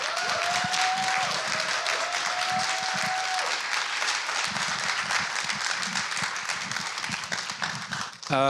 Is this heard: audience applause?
yes